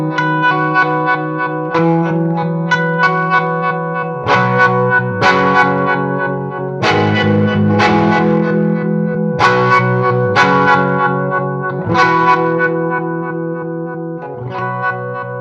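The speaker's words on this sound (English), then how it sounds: "I'm just going to let you listen to a little bit more of a dirty kind of tremolo tone" Guitar played through a Chase Bliss Gravitas tremolo pedal in harmonic mode, a dirty, distorted tone with chords pulsing and swelling in rhythmic bursts, loud and alone.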